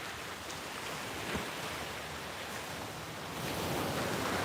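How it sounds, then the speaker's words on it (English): Ocean waves washing onto a beach thick with seaweed, a steady broad rushing wash with a slight swell near the end, mixed with wind noise and no talking. "I'm always fascinated by the waves."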